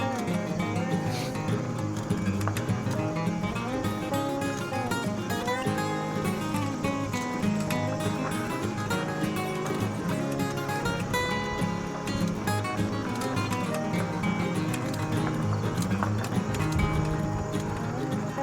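Hooves of an Amish horse pulling a buggy clip-clop steadily along a road in Amish country, a rhythmic trot heard under someone talking continuously while riding an e-bike.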